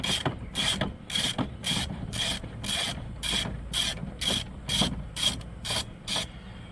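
A ratchet on a long extension works 10mm bolts loose on a water pump shroud, producing a steady series of about eleven sharp, close clicking bursts at an even rhythm with faint scraping between them.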